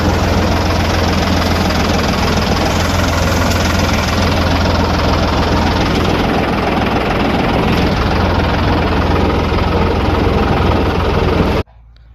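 A tractor engine runs steadily and loudly with a deep, rumbling drone for about eleven seconds, then cuts off abruptly after parking at a farm.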